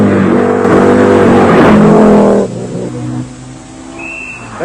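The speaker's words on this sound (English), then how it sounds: "the four-wheel drive Audi Quattro of David Llewellyn leads" Four-wheel drive Audi Quattro rally car on a special stage, engine revving hard and loud as it passes close, then fading and dropping away into the distance.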